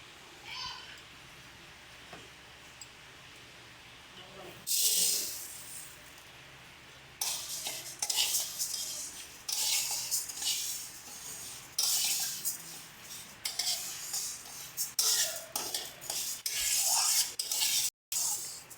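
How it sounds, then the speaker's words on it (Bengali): Mung dal is dry-roasted in a hot kadai, the grains rasping and rattling against the metal in bursts of stirring scrapes after a quieter opening, with a voice heard at times. "আমরা এবার ডালটাকে শুকনো খোলায় ভেজে নেব।"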